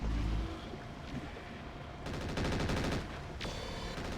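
Rapid bursts of mech weapon fire in the MechWarrior 4: Mercenaries video game, dense repeated volleys starting midway, loud and up close over a rumbling game soundscape with a sharp electronic zap near the end.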